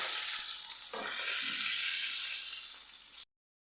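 Homemade luncheon meat frying in oil, a steady loud sizzle and hiss close by with a few brief stirring scrapes, cutting off abruptly at the end.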